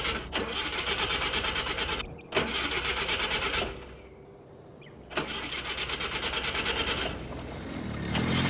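A car starter cranks repeatedly without the engine catching, long steady grinding bursts broken by brief pauses, heard close and alone.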